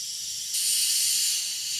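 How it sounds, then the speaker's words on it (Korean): Boksoondoga red-rice makgeolli still fizzing with carbonation gives a soft, steady hiss that grows noticeably louder partway through and keeps going, close and with no speech over it. "아직도 탄산이 올라오고 있어요"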